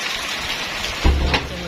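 Heavy rain pours onto the ground on a mountainside, a steady, dense hiss throughout with a louder low rumble swelling near the end; no one speaks.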